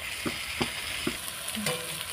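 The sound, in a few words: frying garlic and ginger paste in a pan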